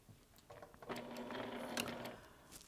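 A sewing machine stitches a fabric project pouch in one short, quiet burst, a rapid mechanical whirring that starts, holds for about a second and a half, then stops.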